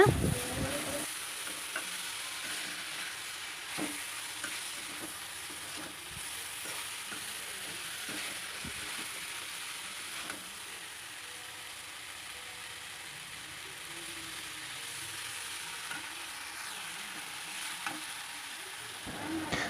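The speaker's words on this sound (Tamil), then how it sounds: "நடு நடுவில் ரொம்ப குலையாத அளவுக்கு மெதுவாக பார்த்து கிண்டி விட்டுக்கோங்க" Snake gourd stir-fry cooks gently in a pan, with a soft, steady sizzle beneath intermittent scraping and clicking as a spoon stirs the pieces slowly at close range.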